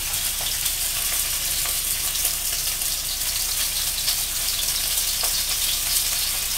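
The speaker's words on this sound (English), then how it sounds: "we've got the pan here really hot, so we're gonna put in the sausage so it fries." Italian pork sausages fry in oil in a very hot pan, giving a dense, steady sizzle with scattered sharp pops and crackles throughout, close and loud, with no talking.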